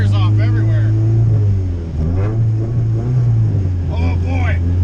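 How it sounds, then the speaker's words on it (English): Honda CRX beater with a worn-out transmission pulling hard with the tires spinning, its engine droning loud and close, harmonics rising and dipping as it revs, with a voice heard over it at times. "Damn, this thing's just blowing the tires off everywhere."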